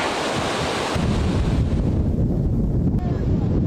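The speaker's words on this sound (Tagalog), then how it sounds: "sa gitna yan ng malakas na hangin at malalaking alon" Strong wind buffets the microphone while big waves surge and crash along the Cagayan shore during Typhoon Marce, a loud, continuous roar of surf and gusts with no letup.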